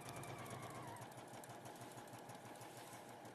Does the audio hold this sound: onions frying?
no